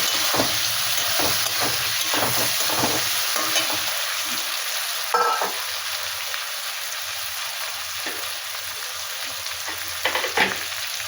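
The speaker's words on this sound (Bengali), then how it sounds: "মাছগুলো মশলার মধ্যে ঢেলে দিলাম, একটু নাড়াচাড়া করে নেব" Fish pieces are stirred through spice paste in a hot pan for a fish curry, with a steady sizzle and repeated scraping strokes of the spoon, close and continuous, with no talking.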